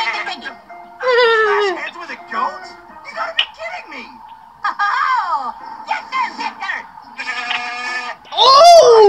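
A series of strained, wavering goat bleats from the video game Ed Edd n Eddy: The Mis-Edventures, arriving in short bursts separated by brief pauses, with a louder cry at the end.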